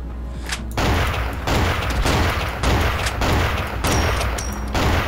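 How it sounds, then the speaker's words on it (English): Sniper rifle fire in the video game Cortex Command: loud, close shots crack in a steady series of about five heavy bursts, each ringing on briefly before the next, with no talking. "Oh, it's a sniper battle, and he's kind of winning."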